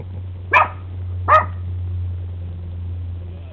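Two sharp, close dog barks sound about a second apart over a steady low hum, followed by quiet background.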